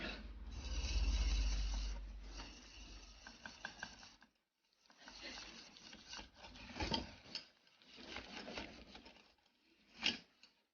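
Two heaped tablespoons of flour are stirred into melted butter for a roux, giving soft scraping and rubbing strokes close by, in irregular bursts with short pauses.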